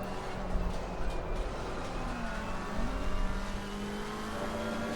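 Engine of a McLaren GT3 race car in a racing simulator game, a steady mid-level drone with slight swells in revs, no talking over it.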